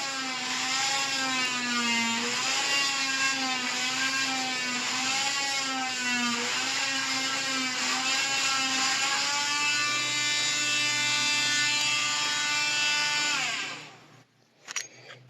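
A pipe cutter spun steadily around a copper pipe gives a continuous, loud whirring, ratcheting mechanical tone with a wavering pitch, lasting about thirteen seconds before cutting off abruptly, with no talk.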